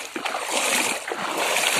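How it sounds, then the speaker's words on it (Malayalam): Water splashes and sloshes as it is stirred by hand in a shallow pond or stream to drive fish toward a net, a steady broadband splashing lasting about two seconds with no talk. "ഫസ്റ്റ് വെള്ളം നന്നായിട്ടൊന്ന് ഇളക്കാം."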